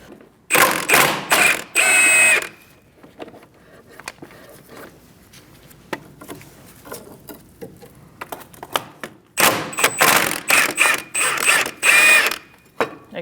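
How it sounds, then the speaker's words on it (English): A 16mm socket on a ratchet turns out the caliper bracket bolts on a 2000-2006 Mini Cooper front brake. It gives two close bursts of fast ratchet clicking with a quieter stretch of small handling noises between them. "Using a 16mm socket, we're going to take out this bolt and also this one."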